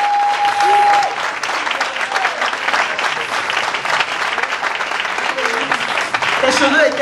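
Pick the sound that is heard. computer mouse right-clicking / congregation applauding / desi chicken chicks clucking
congregation applauding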